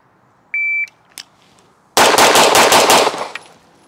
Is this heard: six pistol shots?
yes